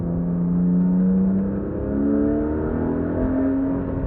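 A car drives along the winding NC209 back road in North Carolina, a steady low engine drone and road hum from inside the cabin, pitch rising and easing slightly with throttle, with no one talking.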